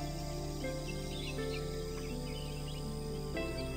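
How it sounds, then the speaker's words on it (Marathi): Birds and insects chirp and trill together on a Konkan farm in a continuous, fairly faint chorus over a steady background hum, with no speech. "किती सुंदर आवाज आहे. चिलचिलाट चालू आहे पूर्ण."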